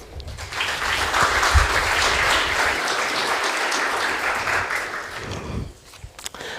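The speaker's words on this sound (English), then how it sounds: "Please give her a warm applause." Warm applause for a speaker at an academic conference, a full burst of clapping that builds quickly, holds steady, then tapers off, followed by a few faint knocks and shuffles.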